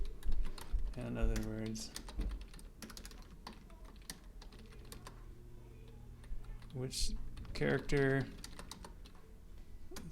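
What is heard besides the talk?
typing on a computer keyboard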